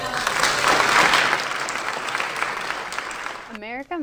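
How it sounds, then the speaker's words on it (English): Audience applause at an event fills the first three and a half seconds with steady broadband clapping, loudest early and gradually thinning, before a voice begins speaking at the end. "would you please give him a round of applause"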